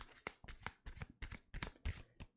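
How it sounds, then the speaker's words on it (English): Overhand shuffling of a tarot deck, a run of about seven crisp papery riffles and slaps in a steady rhythm, close up and quiet, with no voice over it. "ASMR, overhand shuffling."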